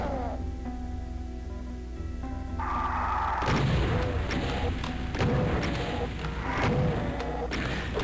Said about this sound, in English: 2 barrels and 4 super shotgun blasts